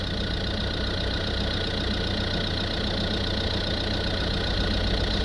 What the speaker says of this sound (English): So we've got the engine running there, as you can see.